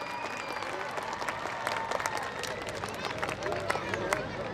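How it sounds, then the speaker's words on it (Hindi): An audience at a school foundation day and annual celebration applauds for children, with dense, sustained clapping and a murmur of crowd voices underneath, fairly distant in a large space. "तालियों से बच्चों का हौसला अफजाई करेंगे आप सब।"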